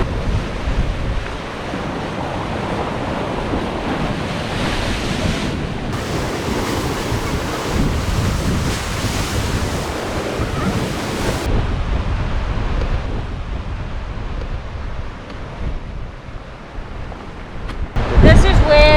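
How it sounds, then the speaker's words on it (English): Ocean waves crash against rocks at Storms River in South Africa as the tide comes in, a loud, continuous roaring surf with heavy wind buffeting the microphone and a brief voice near the end. "These waves are just bashing against these rocks here."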